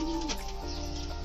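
A racing pigeon gives a short, soft coo nearby, a brief low throaty call lasting about a second.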